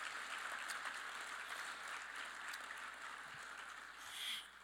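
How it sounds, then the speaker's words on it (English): Applause from the banquet audience at an awards and hall of fame induction ceremony, honoring the evening's honorees; a steady, moderately faint wash of clapping that swells slightly near the end. "a quick round of applause for everybody who will be honored tonight"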